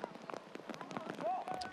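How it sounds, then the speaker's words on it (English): Rain pouring down on a soccer pitch during a USL match between Vancouver Whitecaps FC 2 and Orange County SC, a dense patter of drops with faint voices and whistle-like tones in the background. "the rain is definitely pouring down"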